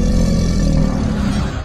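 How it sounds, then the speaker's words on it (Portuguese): A deep, loud, continuous growling roar fills the whole moment, rough and low, standing in for a werewolf prowling at night in rural Brazil. "Rosnados."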